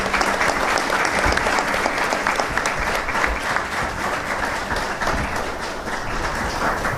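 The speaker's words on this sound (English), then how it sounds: "A round of applause." Sustained applause from a seated audience at a talk on war crimes accountability, a thick continuous patter of many hands lasting several seconds without a break.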